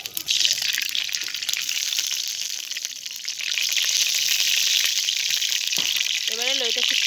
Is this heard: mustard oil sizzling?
yes